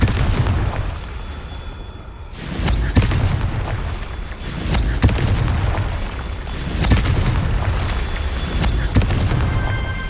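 Confringo spell blasts in the Hogwarts Legacy video game, a series of deep booming explosions with sharp cracks and rumbling tails, loud and repeated across the clip, with no talk.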